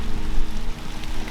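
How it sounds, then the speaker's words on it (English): Steady dense hiss of rain falling in thick woods in Virginia, a continuous even wash of drops close around with no voices. "it's starting to rain"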